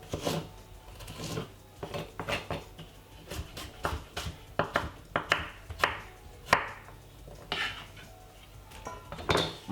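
Cucumber is chopped on a board for a simple rice salad, with quick, close knife taps in uneven bursts, each stroke a crisp knock followed by brief pauses, no talking.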